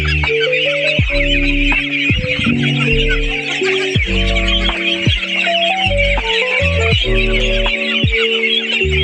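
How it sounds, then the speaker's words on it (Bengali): A brood of about 400 Khaki Campbell ducklings peep and chatter as a dense, continuous high-pitched chorus, with a steady tune playing underneath the whole time. "খাকি ক্যাম্বেল হাঁসের বাচ্চা আমার এখানে মোটে 400 বাচ্চা আছে"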